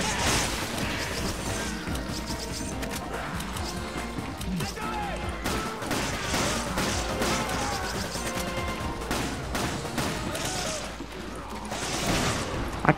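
Gunfire and impacts in a Resident Evil 5 co-op match, dense crashing and shooting bursts running steadily through the whole stretch under game music and effects.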